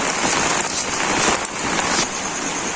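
Heavy rain pours down steadily on a village day, a dense, loud, unbroken hiss of drops hitting surfaces all around, with no voices.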